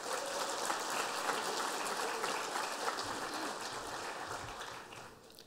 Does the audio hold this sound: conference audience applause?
yes